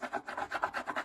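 Quick, soft rhythmic rubbing strokes as a hummingbird transfer is pressed onto a wooden box, a close, faint scratchy back-and-forth with no talk.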